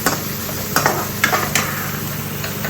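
Onions frying in a pan in a home kitchen give a steady close sizzle, broken by a few sharp scrapes and clinks as they are stirred.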